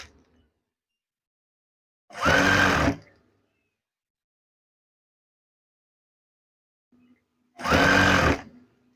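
A sewing machine stitches curtain fabric in two short, rapid bursts of mechanical whirring about five seconds apart, with near silence between them.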